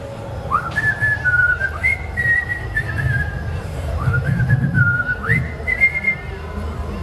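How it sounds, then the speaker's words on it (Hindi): A man whistling a tune at an evening laughter show at the Udaipur municipal Diwali fair, two rising and sliding melodic phrases, clear and near over a murmuring crowd. "आप सीटी क्यों बजा रहे हैं?"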